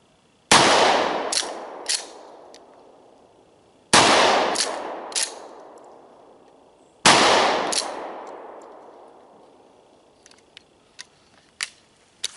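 A Meligun AOW firearm fires single shotgun rounds outdoors: three loud, sharp blasts spaced a few seconds apart, each with a long fading echo, followed by fainter clicks and small knocks of handling.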